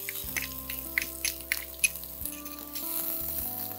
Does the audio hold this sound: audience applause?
no